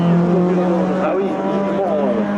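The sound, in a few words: race car engine revving at hill climb race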